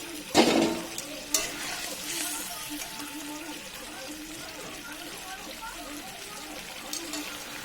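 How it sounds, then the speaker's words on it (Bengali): Fried potatoes are tipped into meat cooking with tomato in a pan, giving a couple of sharp clatters followed by soft sizzling and stirring, with someone talking over it. "আর দিয়ে দিচ্ছি ভেজে রাখা আলুগুলো।"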